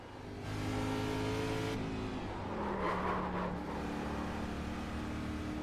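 A car is driven hard on a race track, its engine revving loudly and steadily, with the pitch climbing and falling through shifts and braking.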